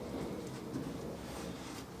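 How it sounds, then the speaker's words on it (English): Steady rain falls outside a workshop, a faint, even hiss of drops with no talking over it. "Nah, it's still raining."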